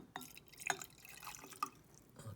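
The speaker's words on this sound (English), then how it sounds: "So I'm going to add a little bit more water to this one." Water poured in small additions into an electrolysis cell during a classroom-style chemistry experiment with copper chloride solution, heard as a few separate splashing drips and trickles, close and fairly quiet.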